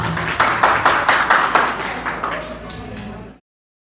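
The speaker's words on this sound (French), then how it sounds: "je vous demande de les applaudir très chaleureusement, s'il vous plaît" Audience applause at a beauty-training certificate ceremony, a dense burst of clapping that swells at the start and gradually thins out before stopping after about three seconds, with faint voices mixed in.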